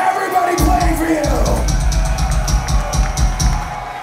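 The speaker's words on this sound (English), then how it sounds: "Give a fucking big round of applause to everybody playing for you." A crowd at a metal concert in Baltimore roars and cheers with yells and whoops. A loud voice rings out at first, and then the cheering swells and carries on in a broad wash.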